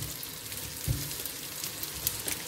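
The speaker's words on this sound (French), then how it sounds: "Nous allons pouvoir cuire nos saucisses." Chipolata and merguez sausages fry in a pan with a steady, soft crackling sizzle, with one slightly louder pop partway through and no talk.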